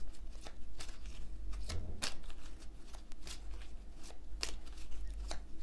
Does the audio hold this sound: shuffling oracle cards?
yes